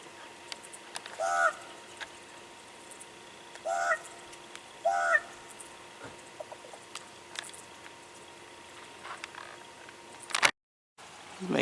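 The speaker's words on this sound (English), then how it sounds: "The raven is back. He was just squawking." A raven squawks outdoors at sunset, three short harsh calls spaced a few seconds apart, fairly near against a quiet background with a faint steady hum.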